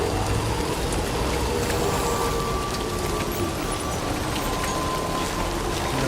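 Timefall rain pours steadily on a badly damaged vehicle in Death Stranding 2, a dense, even hiss of drops drumming on metal that stays loud and unbroken throughout with no voices.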